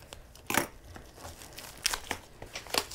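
Packaging around a pre-cut layer cake of quilting fabric being pulled open, with sharp crinkling and tearing bursts at irregular intervals over quieter rustling, close and fairly soft.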